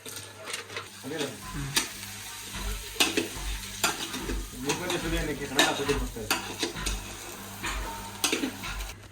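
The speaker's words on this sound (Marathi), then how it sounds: "आता टाकूया खेकडं" Crab pieces going into a hot pan for a crab curry, sizzling and frying with repeated stirring scrapes and clinks of a utensil against the pan, close up and fairly steady throughout.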